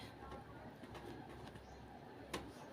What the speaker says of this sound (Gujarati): આજે કબૂતર ધાબામાંથી આવ્યા છે